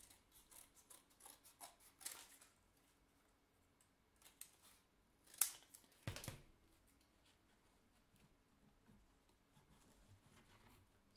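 Scissors snip through EVA foam while shaping a Black Panther cosplay helmet, giving quiet, sparse clips and crunches spread unevenly through the stretch, with a couple of sharper cuts near the middle and no talking.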